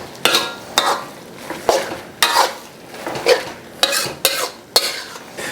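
Pad Thai noodles sizzle and crackle in a pan while a utensil scrapes and stirs in uneven strokes, close by with no voices.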